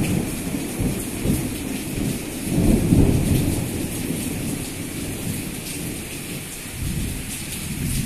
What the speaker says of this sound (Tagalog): Ayan, humihinto na yung ulan.